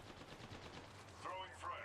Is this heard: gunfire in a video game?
yes